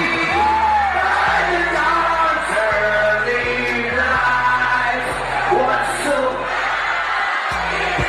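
Protest crowd singing the U.S. national anthem at a Los Angeles ICE raid protest, many voices carrying a sustained tune together, loud and near with whoops and shouts scattered through the singing.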